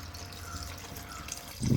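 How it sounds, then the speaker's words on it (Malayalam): Coconut milk poured into ada pradhaman, a Kerala Onam dessert, giving a soft, steady liquid trickle that swells into a brief, fuller splash at the very end, with no voices. "ഇനി നമുക്ക് ഇതിനകത്തോട്ട് കുറച്ച് തേങ്ങാപ്പാൽ ചേർത്ത് കൊടുക്കാം."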